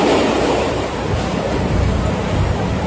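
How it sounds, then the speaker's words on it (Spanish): A river in flood after heavy rains in Mocoa, Colombia, roars as a loud, unbroken rush of churning water with wind buffeting the microphone throughout. "El río se los lleva solitos."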